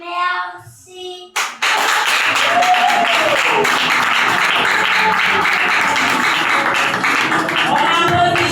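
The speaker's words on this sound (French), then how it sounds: "On applaudit, chers parents." Parents applauding at a school investiture ceremony, a brief voice and sharp knock before loud, steady crowd clapping takes over and continues evenly to the end.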